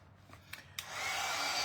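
A hair dryer starts up and runs steadily as a loud, close, broadband whoosh drying a DIY print in a thrifted Goodwill frame, preceded by a few brief clicks and knocks.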